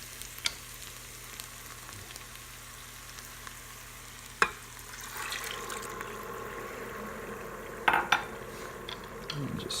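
Rice coated in oil with saffron sizzles in an Instant Pot as wine is poured in and stirred, with a spoon clinking and scraping the pot and the sizzle rising, close with no talk.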